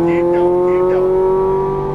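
A Ferrari 430 Scuderia accelerates on a track, its engine holding a strong, steady high-revving tone close by while a voice talks over it.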